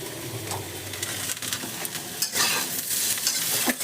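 Okra fries in a pan with a soft, steady sizzle, broken by occasional scrapes and stirs of a utensil against the pan, close by with no talking.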